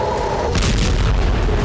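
Deep booming blast from an Israeli strike on Iranian military sites, a loud low rumble swelling and rolling on for over a second.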